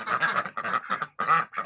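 Several Muscovy ducks quack in quick bursts, close by and loud, with short pauses between the raspy calls.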